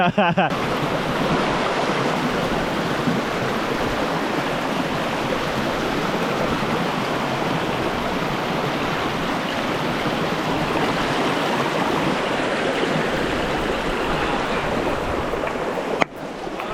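A waterfall roars continuously, a dense, steady rush of falling water close by with no other sounds standing out.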